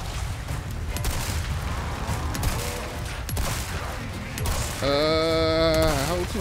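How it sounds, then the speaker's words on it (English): Shotgun blasts fired in the Resident Evil 4 Remake video game, a run of loud bursts over a dense game soundscape, followed near the end by a sustained tonal effect. "I got like 5 shotgun shots and he died."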